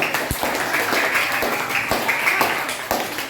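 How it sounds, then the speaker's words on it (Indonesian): An audience applauds in a room, a continuous rustle of many hands with a few louder, irregular thumps and taps scattered through it. "Tepuk tangan untuk."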